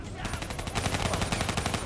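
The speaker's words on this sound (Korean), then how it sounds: "아 역시 총소리가 이 정도는 나야 할 맛이 나죠?" Rapid automatic gunfire in the video game Call of Duty: Black Ops 3, a dense, loud burst of shots rattling continuously for nearly two seconds after a short lead-in.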